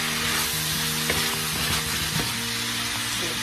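Mixed vegetables and potato stir-fry over high heat, producing a loud, continuous sizzle with scattered utensil scrapes and clacks against the pan.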